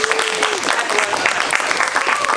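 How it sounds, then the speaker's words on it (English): Audience at a Take Me Out–style dating game event applauding the evening's matched couples, dense, loud continuous clapping up close with crowd noise and a voice briefly audible beneath it. "can we have a round of applause for our matches this evening?"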